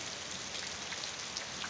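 Steady rain falls on a low-cost chicken breeding pen, an even, close hiss of drops with scattered louder spatters and no voices.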